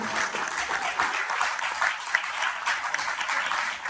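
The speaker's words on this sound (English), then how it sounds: "Give Stanley Nelson a round of applause." Audience applause for a film director at a festival panel discussion: steady, dense clapping from a full room, continuous for the whole stretch at an even, moderately loud level.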